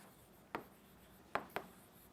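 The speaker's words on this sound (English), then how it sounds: "I'll write it down." Chalk or a marker strikes a board in a quiet lecture hall: three faint, sharp strokes, one alone, then two close together, with no talk.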